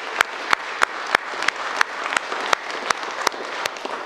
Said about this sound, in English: I want us to all give a huge whooping round of applause for our graduating students